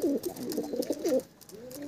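Close, steady cooing from desi pigeons in a loft, a run of rolling throaty calls that eases off briefly and then resumes.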